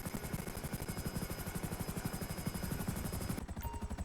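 A helicopter in GTA Online chops with a fast, steady rotor pulse, loud and close, running continuously with no voices over it.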